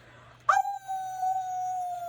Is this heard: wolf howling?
yes